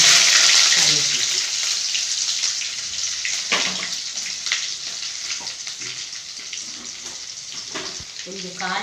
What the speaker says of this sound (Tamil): கொஞ்சமாக வெந்தயம் போட்டுக்கணும். வெங்காயம், கருவேப்பிலை,